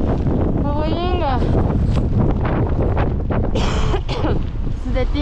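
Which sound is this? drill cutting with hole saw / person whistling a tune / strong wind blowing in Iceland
strong wind blowing in Iceland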